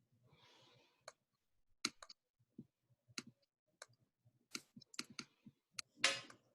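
A computer mouse clicking on a link, a scattered run of crisp, quiet clicks at uneven intervals, close up in an otherwise quiet room with a soft rustle at the start.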